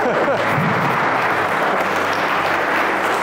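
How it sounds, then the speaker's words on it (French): Audience applause at a French evening event, a dense, steady wash of many hands clapping that holds loud and even from start to finish, with a few cheers early on. "Est-ce qu'on peut la applaudir s'il vous plaît?"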